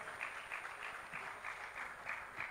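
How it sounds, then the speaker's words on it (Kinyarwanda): A crowd applauds at a Rwanda Premier League football awards ceremony, a soft, distant wash of clapping rising and falling in steady waves. "Big round of applause."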